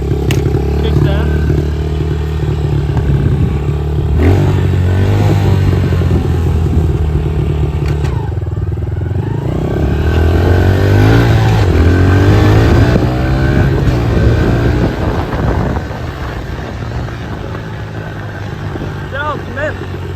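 A pit bike engine runs during a drive test, revving up and down with a buzzy, rising and falling drone, close and loud, while people talk over it.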